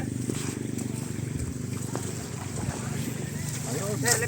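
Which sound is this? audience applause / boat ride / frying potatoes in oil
boat ride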